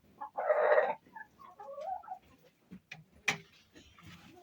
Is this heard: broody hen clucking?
yes